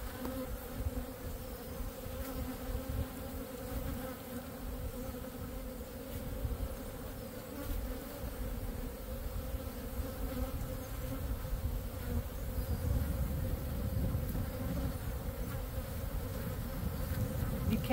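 Honeybees buzzing around a two-frame mating nuc, a steady droning hum of many insects close by, constant and moderately quiet with no talking.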